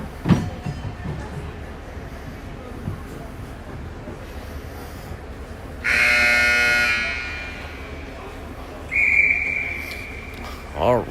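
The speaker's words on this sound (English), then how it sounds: "there was the buzzer" A loud electronic buzzer sounds over crowd noise in an arena during a ringette game, a long steady blast followed a few seconds later by a shorter second one.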